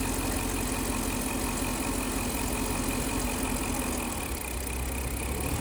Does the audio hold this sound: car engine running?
yes